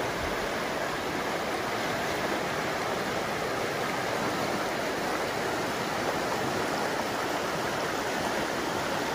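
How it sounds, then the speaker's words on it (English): The Dungeness River, running full from melting snow, rushes in a constant, loud, close roar of turbulent water that stays even throughout. "The Dungeness River is running full from melting snows."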